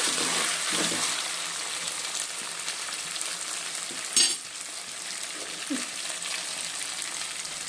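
Vegetables frying in a pan while cooking dalcha without meat, a steady close sizzle running throughout with a few soft stirring scrapes and one brief louder clatter midway.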